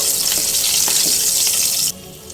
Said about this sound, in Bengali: এই তেলের মধ্যেই আমি দেব হাফ স্পুন কালো জিরে আর পাঁচটা চেরা কাঁচা লঙ্কা লো ফ্লেমে কয়েক সেকেন্ড ফোড়নটাকে নেড়ে নেব